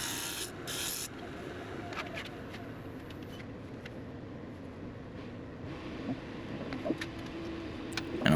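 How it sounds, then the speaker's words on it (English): Spindle gouge shaping a red ironbark or sheoak blank spinning on a wood lathe, a steady close rubbing scrape with faint rasping ticks and small knocks, running continuously with no talking. "I've just changed over to another spindle gouge that is not quite as aggressive."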